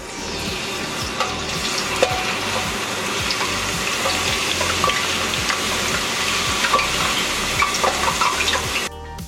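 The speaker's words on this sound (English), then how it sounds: "Our oil's at 350 degrees. It's time to fry our chips." Potato chips fry in 350-degree oil inside a blue Dutch oven, a steady, dense sizzle and crackle filling the whole stretch without pause, close and fairly loud, with no talking.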